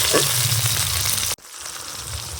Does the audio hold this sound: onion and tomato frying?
yes